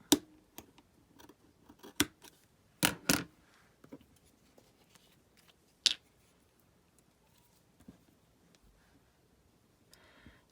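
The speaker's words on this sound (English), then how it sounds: "do a little snip." Scissors snip lace for a Halloween junk journal made from a fast food bag, with a handful of sharp, close cuts scattered across the span, a few louder clusters and quiet gaps between them.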